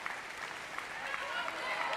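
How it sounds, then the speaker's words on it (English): Crowd applauding at the 2012 London Paralympic table tennis singles final, a steady wash of clapping and cheering from a large arena audience, fairly distant and continuous for the whole moment. "the crowd go wild and start to applaud the Chinese world ranked #1."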